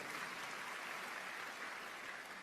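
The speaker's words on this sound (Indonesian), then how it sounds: "berikan tepuk tangan yang meriah buat Tuhan" A church congregation claps during a sermon, a faint, even hiss of many hands applauding steadily and fairly distant, with no voices standing out.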